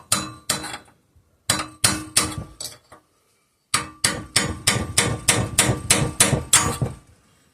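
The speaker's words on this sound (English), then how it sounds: "I'm going to grab my punch and my hammer, and we're going to snug up that lock ring" A steel punch and hammer tighten the lock ring on a 5 hp Briggs and Stratton engine, with sharp metallic strikes in two short bursts, then a steady run of about ten evenly spaced blows, close and loud.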